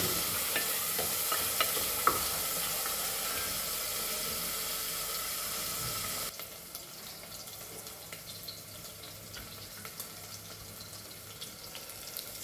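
Chopped onion fries in a pan for Goan-style vegetable pulao, with a steady sizzle and frequent stirring scrapes close by. The frying softens and quiets partway through, and the scraping continues.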